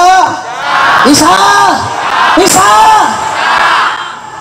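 A large crowd at a religious lecture shouts "Allahu Akbar" in unison, loud and close, in two or three swelling chant waves.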